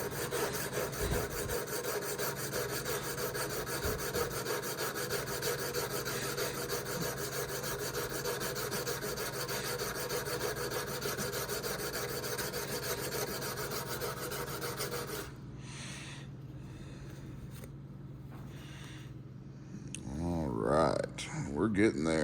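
Steady back-and-forth rasping of a plane maker's chisel being flattened on a diamond sharpening stone, continuous and close for most of the stretch, then stopping abruptly before a brief voice and rustle near the end.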